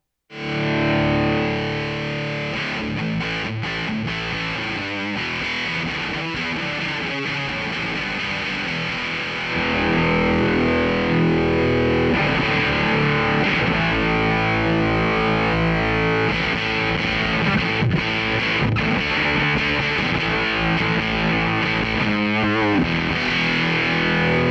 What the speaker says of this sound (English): The character of the fuzz does change a lot through the volume knob.